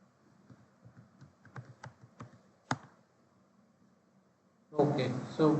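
Computer keyboard typing in a quiet room, a short run of soft then sharper keystrokes at an uneven rhythm, followed by a person starting to speak.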